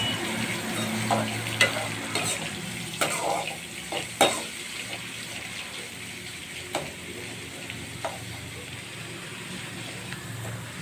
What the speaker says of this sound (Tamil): நல்லா சிம்மிலே வச்சு வதக்குங்க